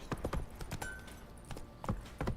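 Horse hooves clip-clop on the ground in The Witcher 3, an uneven run of close, distinct thuds at a walking pace over faint ambient background.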